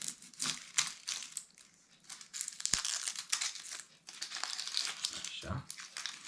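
Crisp crinkling and snapping as the dry stem end is cut off an onion, close and fairly quiet, with a few sharp cracks and someone talking softly over it.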